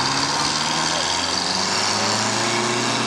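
A 1963 Euclid Terex scraper with a Detroit diesel engine passes in a parade, giving a steady, loud, close engine drone with a low rumble and buzzing overtones; voices can be heard beneath it.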